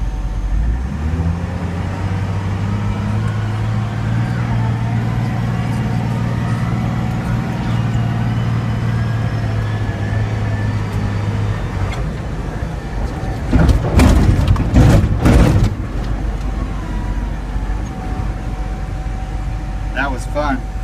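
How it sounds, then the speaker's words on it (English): A Caterpillar 930G wheel loader drones loudly and steadily as it drives, its engine pitch dropping as it shifts gears, with a burst of bumpy rattling and clanking partway through. "what we're going to do is attempt to show you that it's shifting through all the gears"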